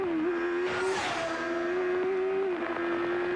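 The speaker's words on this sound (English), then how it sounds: "Going through one of the chicanes, now back hard on the accelerator." A 1991 CART IndyCar race car on the Australian street circuit screams out of a chicane, its high engine note holding steady, dipping briefly, then pulling hard again, loud and close from the in-car position.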